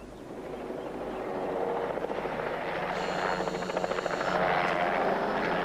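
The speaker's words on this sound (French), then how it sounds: "Un hélico signalé plein est." A helicopter approaches with a steady, rising rotor chop and engine roar that grows louder over several seconds, with no voices.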